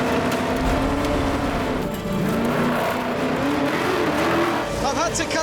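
A car drives over a fine layer of loose stones on volcanic ash, its engine droning steadily throughout while the tyres crunch and slide, and a brief squeal sounds near the end.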